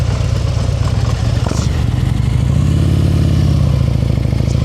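A motorcycle engine runs close by during slow-speed riding practice in Pennsylvania, a steady loud drone that dips and swells as the throttle eases, with some clatter mixed in.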